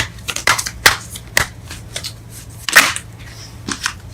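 Tarot cards shuffled by hand in a series of crisp, riffling bursts, some sharp snaps and flutters at irregular intervals over a faint low hum, close and alone with no voices.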